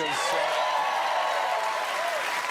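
Studio audience applause on an Australian football TV show, a steady wash of clapping under a tonal, musical layer, with a host's voice faintly present.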